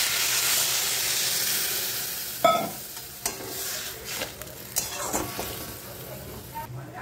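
Crumbled fish roe cooking in a pan, a hissing sizzle that flares when a little water goes in, followed by several sharp stirring scrapes and knocks, under some faint talk.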